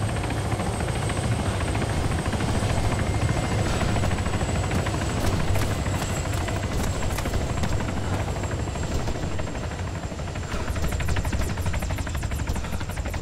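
Friendly helicopter in the Arma III video game, a loud continuous rotor thump and turbine roar held steady throughout with bursts of distant gunfire crackling in the background.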